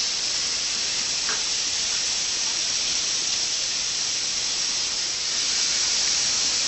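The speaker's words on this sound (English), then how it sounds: "just go ahead and throw the steaks on there" Steaks seared in a preheated pan over medium-high heat give a steady, loud, close hiss that runs unbroken with no voices.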